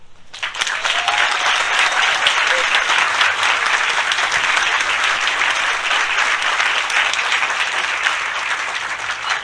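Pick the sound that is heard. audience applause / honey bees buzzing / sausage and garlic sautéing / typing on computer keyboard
audience applause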